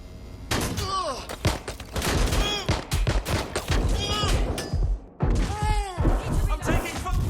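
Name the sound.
gunfire in video game Watch Dogs 2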